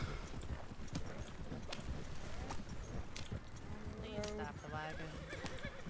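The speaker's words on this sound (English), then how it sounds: "my horse can't keep up this pace" Galloping horse hooves in Red Dead Redemption clip-clop in a fast, steady rhythm throughout, joined near the end by a short neigh, with a voice talking over the top.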